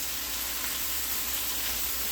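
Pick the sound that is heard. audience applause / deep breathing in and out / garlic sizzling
garlic sizzling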